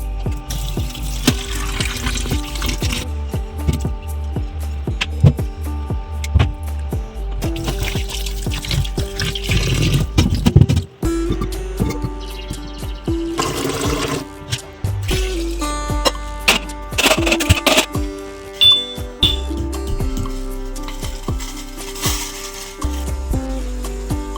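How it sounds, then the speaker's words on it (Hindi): Potatoes are washed in water in a home kitchen: continuous splashing and trickling with sloshing and clattering, close and fairly loud, with no talk. "तो अभी आलूओं को पहले धो लेते हैं और फिर इसको बॉईल करेंगे।"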